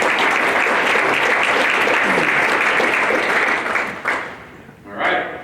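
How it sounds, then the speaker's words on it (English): Dense, sustained audience applause fills a hall during the 2019 CSC Athletics Hall of Fame induction dinner, steady and loud for about four seconds before thinning into scattered claps and a final brief swell. "Let's give them a round of applause."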